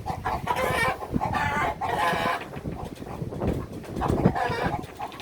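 Chickens cluck and squawk agitatedly inside their coop, a dense, continuous noisy chorus of close hen calls with rooster-like cries rising above the flock.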